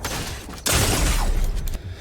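Gunfire erupts during a fast building fight in a shooter video game, a dense burst of loud crackling shots and blasts over busy game noise, then tapering off.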